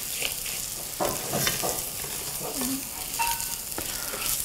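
Rice sizzling and being stirred in a hot pan while cooking a leek risotto, a steady frying hiss broken by soft scraping stir sounds, close and moderately quiet, with no talking.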